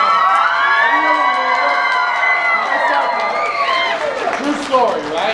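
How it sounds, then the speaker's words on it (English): A Comic Con convention crowd at a Five Nights at Freddy's panel cheers loudly, with sustained whoops and shouting voices rising and sliding over scattered clapping, the mass of sound swelling and breaking near the end. "I want another round of applause so everyone hears you right now."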